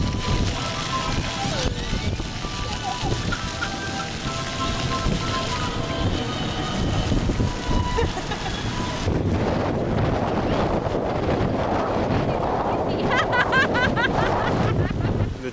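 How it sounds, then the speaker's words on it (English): Strong wind gusts outdoors beside water, buffeting the microphone with a constant rough roar and rushing spray that grows louder and more turbulent partway through, with faint voices mixed in. "The wind blew right as it was going, and it like totally got her."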